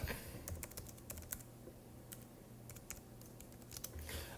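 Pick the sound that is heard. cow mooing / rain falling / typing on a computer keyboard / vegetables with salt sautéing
typing on a computer keyboard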